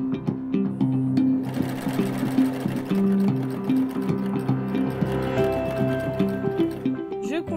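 A sewing machine stitches jersey fabric for a tank top, running steadily and close in a fast mechanical rhythm that slows near the end as it approaches a seam.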